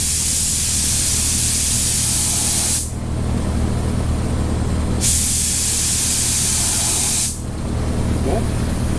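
A paint spray gun hisses loudly in two long sustained bursts while painting Dodge Viper ACR fenders, separated by brief pauses, over a steady low compressor drone.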